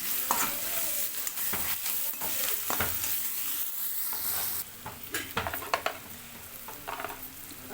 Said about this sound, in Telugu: ఒకసారి అయితే కలుపుకోవాలి